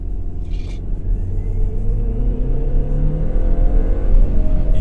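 An Audi A6 C7 2.0 TFSI engine roars louder as it accelerates hard at full throttle in sport mode, its pitch climbing steadily through a gear, close and dominant with no voices.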